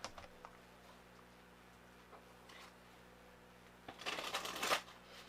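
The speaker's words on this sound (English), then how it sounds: "I'm going to take a Messages of Love card and see what that says" Messages of Love oracle cards riffle in a short, crisp shuffle near the end, after a few seconds of quiet room tone with faint, scattered taps.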